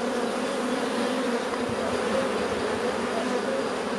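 Honeybees buzzing steadily during a spring hive inspection, a dense continuous hum of many bees close by, filling the whole stretch without a break.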